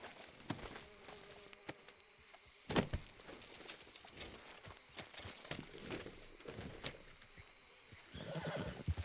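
A horse in the video game Red Dead Redemption 2 lets out a sharp neigh partway through, set against hoof clip-clops and a buzzing insect and outdoor ambience.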